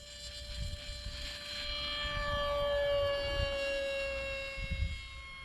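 Aeroscout RC airplane taking off into the wind outdoors on a spring day, its electric motor whining as the pitch climbs, then easing back as the plane pulls away, steady at moderate distance.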